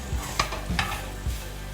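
Cooked kaima rice being gently mixed with carrot and almonds in a pan, a few soft scraping stirs with light sizzling and clinks, close and fairly quiet.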